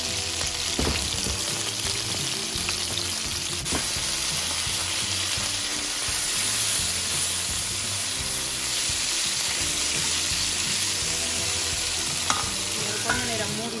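Okra sautéing and frying in oil in a pan for a Sri Lankan vegetable curry, a steady close sizzle with stirring and occasional utensil scrapes throughout.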